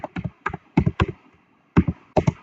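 Fingers type a memo on a computer keyboard while entering data in ABSS accounting software, with close, crisp clusters of key taps separated by short pauses.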